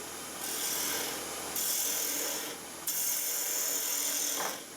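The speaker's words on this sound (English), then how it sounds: "I'm going to use the bowl gouge" A bowl gouge cuts into wood spinning on a lathe, giving a steady scraping hiss in several long passes with brief lulls between them, close and fairly soft with no talking.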